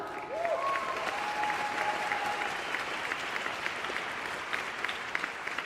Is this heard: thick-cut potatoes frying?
no